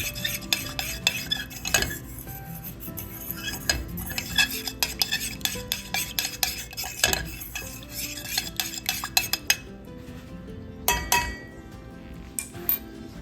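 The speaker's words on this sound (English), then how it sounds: "We'll stir that in and then we'll add in our cornstarch slurry." Stirring a broccoli, carrot and mushroom vegetable stir fry in a pan, with a spoon scraping and clinking against the metal in quick repeated strokes, close and clear, over a faint sizzle, then quieter taps toward the end.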